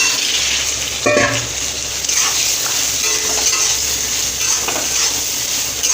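Soybean chunks and potato sizzle steadily in hot oil in a pan while being stirred, with a brief clatter of a utensil against the pan near the start.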